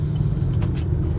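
Cars rolling past on Al-Qudra Street in Dubai at night, a steady low engine and tire rumble from nearby traffic with a couple of brief swells as vehicles pass.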